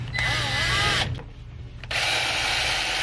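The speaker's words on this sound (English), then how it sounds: "Line this back up and screw it together" A power drill drives screws into the bottom plate of a car audio build in a Porsche Cayenne, whirring loud and close, stopping briefly, then spinning up again for a second steady run.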